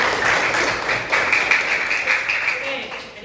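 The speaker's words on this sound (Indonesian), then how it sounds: "Jadi tepuk tangan dulu." Children in a Balinese language class clap their hands together in a brief burst of applause, a dense patter of many hands filling the room, with voices mixed in.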